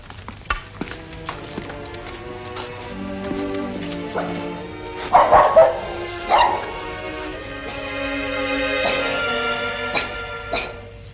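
A dog in a French drama film barks and yips repeatedly in short bursts, some whimpering notes between, fairly close, with faint background sounds.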